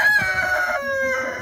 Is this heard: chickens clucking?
yes